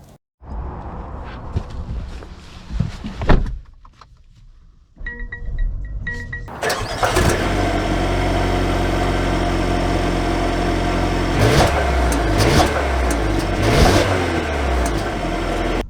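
A 2022 Mercedes A220 sits quietly with faint cabin sounds, then its engine starts with a brief rev and settles into a steady, close idle with small fluctuations.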